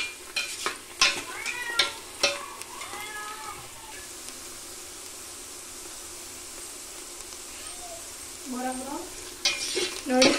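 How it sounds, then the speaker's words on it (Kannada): Onions frying in a pan for masala rice, a soft steady sizzle broken by scraping stir strokes at the start and the end, with a cat meowing in the background. "ನಾವು ಬೇಯಿಸ್ಕೊಳ್ಳೋಣ, ಉಳ್ಳಾಗಡ್ಡೆ ಬ್ರೌನ್ ಆಗಬೇಕು."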